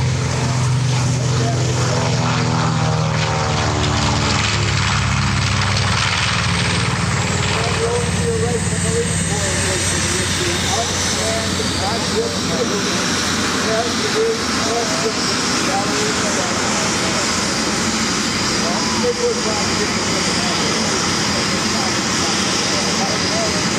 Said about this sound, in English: Series of fighters coming out from the Army Air Corps, the P51.